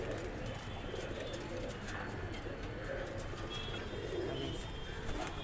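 Deobandi pigeons at a loft coo softly and continuously over a steady, dense background hum, with no clear talk.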